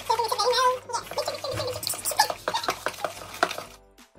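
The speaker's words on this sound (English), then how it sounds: "Now we'll whisk it." A whisk stirs butter and sugar in a bowl for chocolate chip cookie dough, with rapid scraping and clinking strokes against the bowl in uneven bursts that stop near the end.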